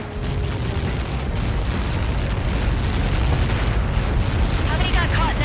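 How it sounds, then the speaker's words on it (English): A massive missile impact explosion in Ace Combat 7, a long, loud, roaring low rumble that sustains and churns for several seconds, with radio voices speaking over it near the end. "How many got caught in that explosion?"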